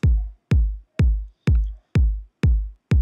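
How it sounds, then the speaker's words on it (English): A layered kick drum with a click on top, compressed so the two blend into one punchy hit. Seven dry, evenly spaced beats land about twice a second, each with a sharp snap at the attack and a deep body that decays quickly. "make them sound like one kick rather than a kick with a click on top or a click with a kick underneath"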